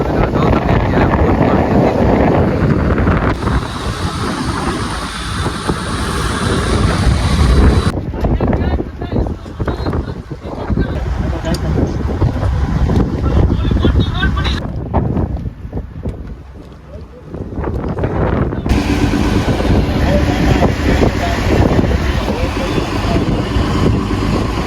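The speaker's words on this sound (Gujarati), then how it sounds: "ઓ માય ગોડ, ફૂલ તોફાન અત્યારે તમે જોઈ શકો છો." Storm wind battering a fishing boat at sea off Porbandar, loud gusting roar buffeting the microphone with surging and easing waves of noise, and voices shouting underneath.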